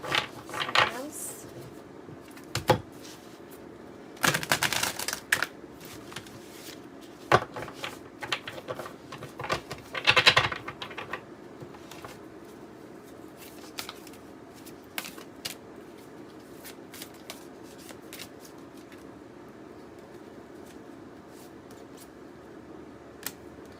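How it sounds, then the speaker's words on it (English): A tarot deck is shuffled and handled, with brisk card riffles and slaps in short bursts, the loudest near the start and around the middle, over a steady quiet background and occasional soft shuffling. "Let's pull from the tarot deck for Leos."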